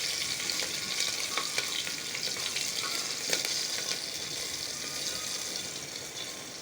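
Chopped garlic, ginger and green chili sizzle steadily in hot oil in a pan while being stirred, a continuous close frying hiss with scattered crackles and soft scraping, no talk.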